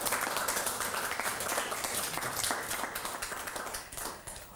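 A studio audience on a Bingo Lotto broadcast applauds in a brisk, steady burst of many hands clapping, tapering off toward the end.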